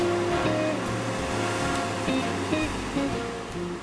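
Ocean waves surge and crash along the rocky shore of the Restless Sea on Monterey's 17-Mile Drive, a steady roaring wash of surf with no voices.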